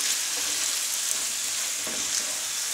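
Pasta with melted gorgonzola cheese and zucchini being stirred in a pan, giving a steady close sizzling hiss with soft scraping movements and no talking.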